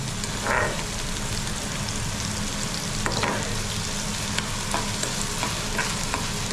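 Onion fries in hot oil with curry leaves, making a dense, continuous sizzle and crackle close up, punctuated by a few stirring scrapes and clicks, with no talk.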